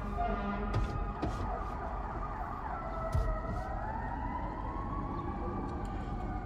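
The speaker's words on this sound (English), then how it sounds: "Sirens going off." A wailing emergency siren rises and falls over steady Chicago city traffic rumble, moderately distant, sweeping in pitch through the whole stretch.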